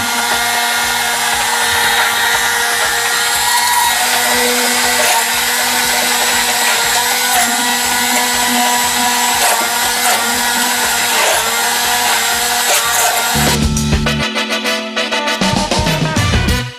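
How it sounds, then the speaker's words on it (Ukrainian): An electric blender whirs loudly and continuously, blending a sauce for a salmon salad, a steady close motor drone that shifts to a choppier, pulsing tone near the end. "Микола перебиває соус"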